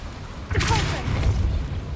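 Repulso spell impact in Hogwarts Legacy, a single booming whoosh with a brief swirling tone that swells midway and rumbles out over a low continuous bed.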